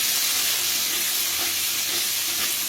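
Cut pumpkin and potato fry loudly in a pan, giving a close, continuous hissing sizzle that holds steady throughout, with no voices.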